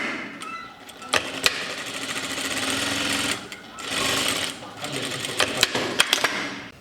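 A sewing machine stitches a pocket hem in long, steady close-up runs, briefly pausing, with sharp clicks toward the end and a voice speaking over it.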